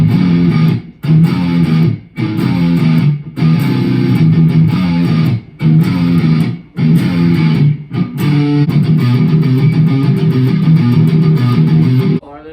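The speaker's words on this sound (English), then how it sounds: "So we'll do some heavy stuff." Homemade BC Rich–style electric guitar chugging heavy distorted riffs, loud and dense, in choppy bursts separated by brief stops, with no voices.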